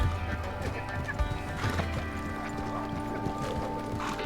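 In Red Dead Redemption, horse hooves clop and a horse whinnies amid a busy, layered game soundscape, with talk over the top.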